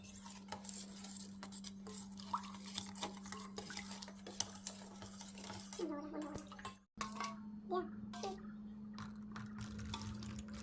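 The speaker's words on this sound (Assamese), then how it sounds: "এতিয়া মই ভালকৈ একদম চৰবতখিনি গলি দিম চামুচেৰে" A spoon stirs a sharbat drink sweetened with sugar and a pinch of salt, giving quick repeated metal clinks and swirling liquid over a steady low hum, broken by one brief silence partway through.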